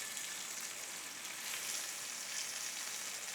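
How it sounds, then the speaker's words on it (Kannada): Tandoori chicken pieces frying in a pan, a soft, steady, even sizzle at low level with no voices. "ಅಲ್ಲಿವರೆಗೂ ಎರಡೂ ಸೈಡ್ ಈ ಸೈಡ್ ಫ್ರೈ ಮಾಡಿಕೊಂಡು ಒಂಚೂರು ಕಲರ್ ಚೇಂಜ್ ಆಗಿದ ತಕ್ಷಣ"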